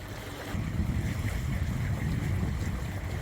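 A sailboat motoring under engine in light wind off Greece, a steady low engine drone mixed with wind buffeting and water rush, continuous and fairly loud.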